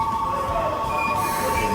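Japanese Shinkansen bullet train pulling into a station: steady rumbling rail noise with a faint high whine, no talk.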